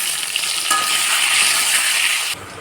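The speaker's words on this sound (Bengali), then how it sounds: "ওই তেলেই দিয়ে দিচ্ছি আলু আলুগুলো একটু ভেজে নেবো" Potatoes frying in hot oil, in the same oil just used for turmeric-salted prawns, for a Kolkata-style prawn biryani; a loud, continuous close-up sizzle with no talking.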